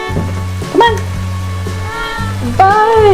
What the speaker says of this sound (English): All right, let's get the cat.